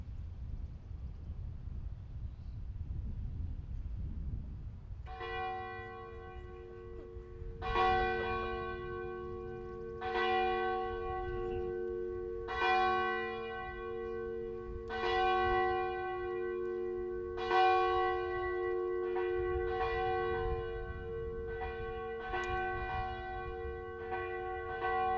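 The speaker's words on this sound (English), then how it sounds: "So hopefully the bells will start ringing." Church bells ring at a Memorial Day ceremony in North Brookfield: after a stretch of wind noise, loud resonant strikes repeat about every two and a half seconds, each one ringing on and overlapping the next.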